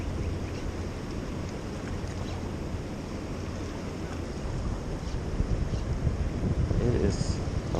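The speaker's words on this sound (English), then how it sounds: "Wind's blowing." Wind gusts across the microphone at a spillway on a chilly, drizzly day while fishing, making a steady low rumble that swells louder toward the end.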